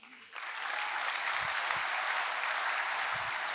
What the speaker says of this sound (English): One more huge round of applause for these guys and their hard work.